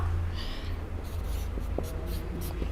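A pen scratching on paper while writing out a matrix, faint short strokes and taps over a constant low hum, close and quiet with no talk.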